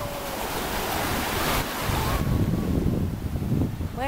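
Ocean surf at an open-sea beach in Tuxpan, Veracruz, a steady broadband wash of breaking waves with wind gusting across the microphone, loud and continuous throughout.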